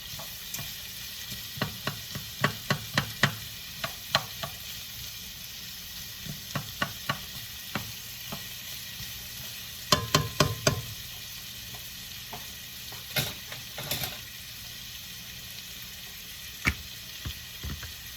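Halved tomatoes fry and blister in a pan with a steady background sizzle, broken by irregular clusters of sharp pops and spatters, close and without talk.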